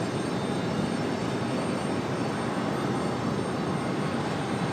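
Steady, loud broadband roar of a jet airliner landing at Raleigh-Durham International Airport, RDU, holding constant throughout with no talk over it.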